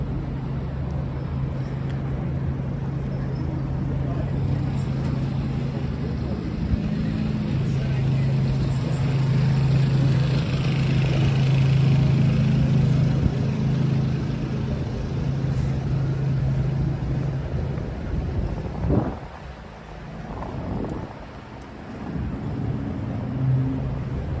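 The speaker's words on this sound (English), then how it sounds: "A lot of crosstown traffic, right?" Busy crosstown traffic on 14th Street in Manhattan on a Saturday night, a steady broad roar of engines and tires with a low droning hum, some louder passing vehicles near the end, and people talking faintly in the street.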